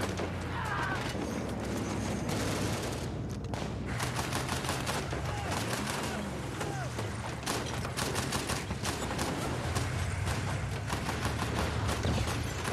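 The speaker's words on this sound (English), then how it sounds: "a Mark 19 fires grenades. So poof, poof, every hit is a grenade" Dense, continuous heavy gunfire from a war-film ambush scene, with .50 cal machine-gun bursts and Mark 19 grenade launcher fire rolling together loudly and steadily for the whole stretch, with a faint voice now and then.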